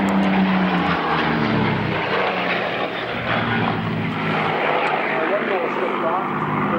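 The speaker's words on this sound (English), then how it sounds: "The B-17, Sammy B, is down at the holding point for the runway, just running up, getting ready to get airborne" A B-17 bomber at the runway holding point running up its four piston engines before takeoff at a 1997 autumn air show at Duxford, a loud continuous propeller drone with a commentator talking over it.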